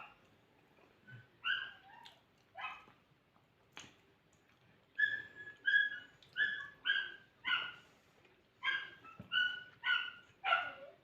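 A dog barks during an evening meal: about a dozen sharp, fairly close barks and yips, first in scattered pairs, then in a quick steady run. No one speaks.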